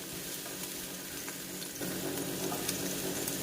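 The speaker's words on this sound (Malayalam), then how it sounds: "ഒരു പാൻ ചൂടാക്കി അതിലേക്ക് വെളിച്ചെണ്ണ ഒഴിച്ച് കൊച്ചുള്ളി ഇട്ട് ചെറുതായിട്ടൊന്ന് വഴറ്റുക." Shallots sautéing in coconut oil in a hot pan give a steady close sizzle and fry with no voices, growing a little louder midway.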